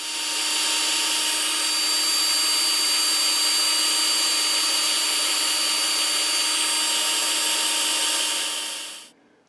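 A power driver whirs steadily for nine seconds while fixing screws into the neck cap of a headless guitar, then cuts off abruptly.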